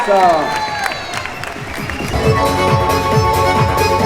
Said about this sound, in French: Allez, des applaudissements pour nos deux premiers seniors.